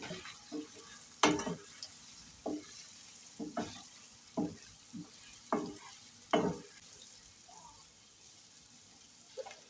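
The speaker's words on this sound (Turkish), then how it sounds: "Isınmış yağda salçayı kavuruyorum." Oil sizzles softly in a pan while a spoon stirs tomato paste and meatballs, with sharp scraping bursts every second or so against a low frying hiss.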